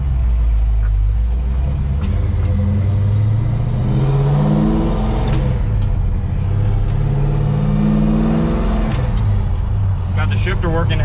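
A 1968 Oldsmobile Cutlass, hood removed, drives and shifts through its gears, the engine pitch climbing and dropping repeatedly as it runs loud and close under steady talking.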